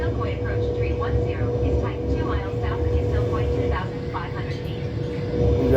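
A steady low engine roar fills the scene, like a plane powering up for takeoff from Istanbul Atatürk Airport in a flight simulator game, with a voice talking over it throughout.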